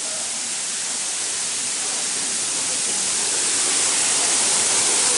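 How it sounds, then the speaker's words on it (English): A waterfall at a tourist site near Fort Portal in Uganda roars as a loud, steady broadband wash, growing slightly stronger toward the end, with no voices. "It's a waterfall"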